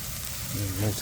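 Stir-frying in a pan over heat, with a steady hiss and sizzle, as a voice talks over it and a short clank sounds at the end.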